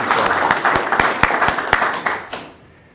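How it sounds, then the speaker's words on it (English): An audience claps in a short burst, with distinct hand claps over a general patter that fades out after about two and a half seconds. "Let's give Mr. Martin a round of applause."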